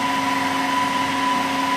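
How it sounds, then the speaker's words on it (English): A blender whirs hummus in one steady, even motor whine with tonal humming, running continuously for the short stretch without pauses. "I'm gonna give it one last whisk before heading to the beetroot."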